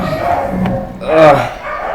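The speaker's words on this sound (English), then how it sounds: "Like now, they're still barking." Dogs in a house bark and yip briefly in the background, with a louder bark near the middle, while a person talks over them.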